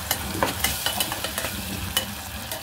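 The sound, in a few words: stirring tomato puree into frying onions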